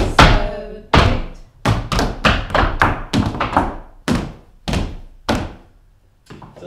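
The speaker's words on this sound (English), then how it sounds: "the very, very, very last noise that you make is a tap, not a step" Tap shoes strike a hard floor in a beginner solo jazz tap routine: about ten crisp, close steps and taps in an uneven, syncopated rhythm, each a sharp thunk with a brief ring, with no voices.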